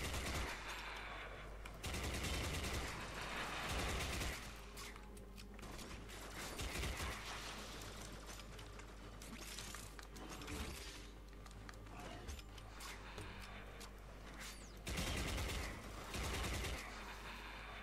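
Tetra rifle fire in Warframe sounds as repeated bursts of rapid shots set over a constant low hum, fairly quiet overall, with the heavier volleys clustered at the start, middle and end.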